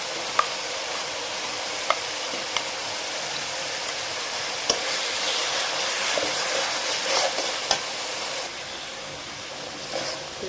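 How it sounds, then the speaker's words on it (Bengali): Blended spice paste hits hot oil with masala for chicken rezala, frying with a constant crackling sizzle, punctuated by sharp spoon taps and clicks against the pan at irregular intervals. "এই পর্যায়ে আমি যেই পেস্টটা তৈরি করে রেখেছিলাম ব্লেন্ডারে,"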